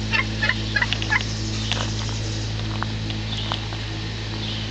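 A farm turkey gobbles in a few quick bursts over a steady low hum, fairly close, with no talking.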